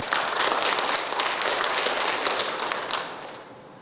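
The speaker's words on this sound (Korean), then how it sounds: "큰 박수로 모시겠습니다." Audience applause at the 15th Nogeun-ri Peace Prize award ceremony, a dense, steady clapping from a sizeable crowd that fades gradually toward the end.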